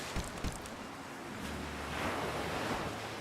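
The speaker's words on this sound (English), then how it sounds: "The ocean is a bit loud?" Ocean waves in the Nancy Drew game Creature of Kapu Cave wash in as a continuous loud surf roar with some wind noise, swelling slightly toward the end, with no voices.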